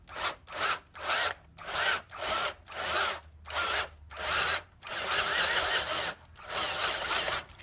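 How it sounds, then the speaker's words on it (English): A cordless drill drills a hole in repeated short bursts, its rough grinding whine rising and falling about once a second before settling into a longer steady run, close and alone. "And then we're just going to start drilling."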